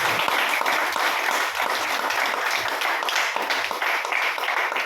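An audience at an RCM business seminar claps loudly and continuously for about five seconds. The applause is a dense, even roar with no voices rising above it.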